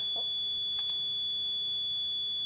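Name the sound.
level alarm horn sounding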